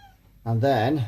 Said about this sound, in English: yes Beard, that's the sound of Beard, my other cat